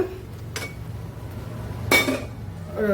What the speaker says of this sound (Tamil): குக்கர் எடுத்துருக்கேங்க